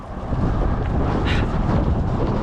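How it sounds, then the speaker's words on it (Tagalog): Gusting wind buffets the microphone in a loud, continuous low roar that swells slightly after the first moment and then stays constant, with no speech. "lakas ang hangin"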